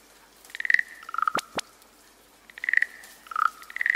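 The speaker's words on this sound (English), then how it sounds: "Wow, we found a frog and a snail in the rain." A frog croaks outdoors on a rainy day, in rapid trilling bursts that come in several clusters, with two sharp clicks in between; fairly close, with no talking.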